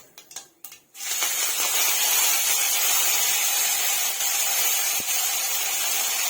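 Mustard seeds, fenugreek and curry leaves dropped into hot oil for a Tamil garlic kuzhambu, a few clattering taps followed by a loud, steady hissing sizzle that continues close and unbroken.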